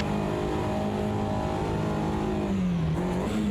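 A Volkswagen Fusca race car drives past on a track, its engine droning steadily and shifting pitch as it goes by, loud and close with no talk.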